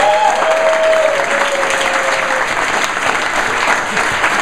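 Steady applause from a crowd at the final presentations of a Startup Weekend event in Milwaukee, fairly loud and sustained throughout, with a few faint whistles or cheers mixed in.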